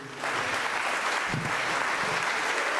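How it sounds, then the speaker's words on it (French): A concert audience applauds the members of a band before the show, a dense, loud, continuous burst of clapping from a crowd that holds steady to the end. "Donc je demande d'applaudir très fort tous les membres du Boys Band"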